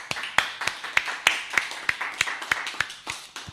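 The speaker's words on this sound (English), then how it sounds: "I'd like to give the excellent John Fleming a big round of applause, everybody" Sparse clapping from a small studio group on a London radio show, a dozen or so distinct sharp claps at an irregular rhythm, close and moderately loud, with no voices over it.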